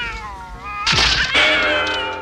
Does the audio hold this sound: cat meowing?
yes